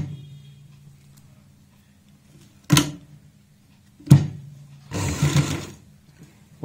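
A sewing machine stitches lace onto a neck design, running as a low steady hum with two sharp mechanical clicks and a brief louder burst of rattling stitching close by.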